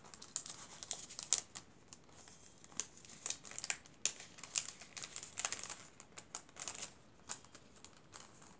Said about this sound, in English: And I hope I cut this okay as I hold my breath.